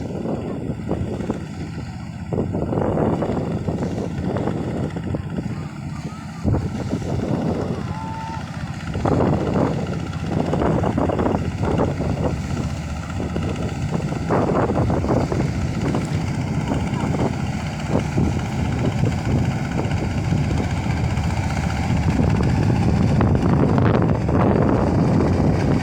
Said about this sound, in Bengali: দেখুন, আপনারা দেখতে পাচ্ছেন একটি ট্রলার আসছে।